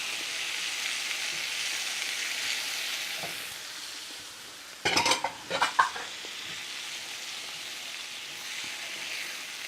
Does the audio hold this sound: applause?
no